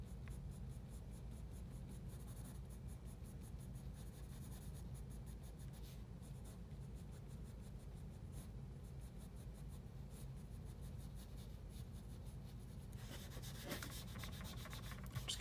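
A pencil shades a hand drawing on paper with soft, continuous scratchy strokes, close and faint, ending in a brief burst of brisker rubbing.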